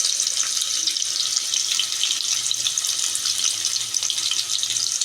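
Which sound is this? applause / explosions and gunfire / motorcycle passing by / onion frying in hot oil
onion frying in hot oil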